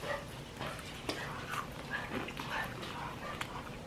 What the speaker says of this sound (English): There's a goddamn dog.